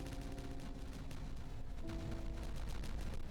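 Explosions set off in the beaver colony-building game Timberborn, a dense rumbling run of blasts and crackling booms that keeps going throughout, loud and without any talk.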